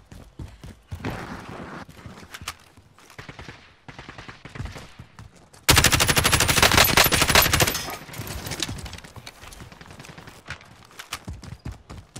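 Gunfire in a multiplayer shooter game: scattered shots and short bursts, then a loud sustained volley midway through, easing back to sporadic cracks.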